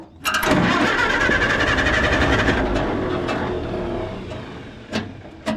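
An Oliver Super 55 tractor engine cranks loudly over and over after a carburetor rebuild, a steady churning starter and engine noise that fades off without catching, followed by a couple of brief clanks.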